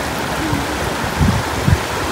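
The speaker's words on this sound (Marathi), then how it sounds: "खूप वाहत आहे पाणी" Fast-flowing stream water rushes steadily and close by at a fishing spot, a dense continuous wash with a few slightly louder surges and splashes.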